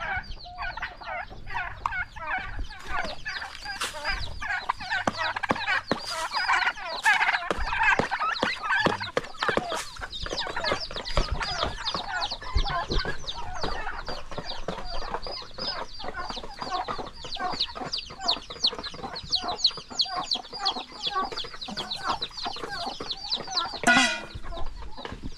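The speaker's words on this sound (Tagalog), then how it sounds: "So ito yung mga pabo natin." A flock of farm turkeys and chickens keeps up busy clucking and squawking calls that overlap nearby, with sharp, frequent bursts throughout.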